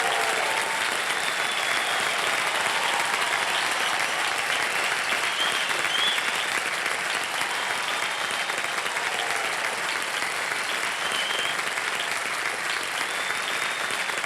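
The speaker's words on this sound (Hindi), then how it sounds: "जोरदार तालियां बज जाए।" Loud, dense applause from a television studio audience welcoming cricketers, a continuous roar of clapping with a faint crowd murmur, sustained at full strength from start to finish.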